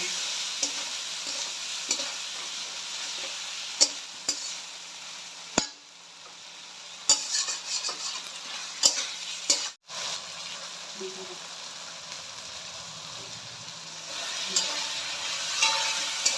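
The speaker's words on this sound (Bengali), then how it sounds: "হালকা পরিমাণ শুকনো লঙ্কা গুঁড়ো আর ভালো করে মশলাটাকে কষিয়ে নেব" Spice paste with dried chilli powder being sautéed in a pan for a snakehead fish and potato curry, a close steady frying sizzle punctuated by sharp spoon clinks and scrapes against the pan.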